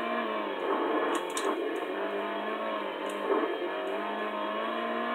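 Racing car engine in a PlayStation 1 racing game, a steady buzzing drone held at high revs throughout with slight pitch shifts and a few brief clicks, continuous and fairly loud with no talk over it.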